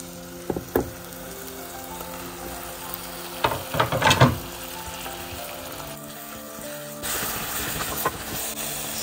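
Food fries in a pan with a steady low sizzle and hiss. A few louder bursts and stirring clatters stand out against the constant background crackle.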